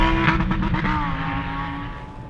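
Lamborghini Huracán running alongside on a race track, a loud, steady engine roar close by that eases off slightly toward the end.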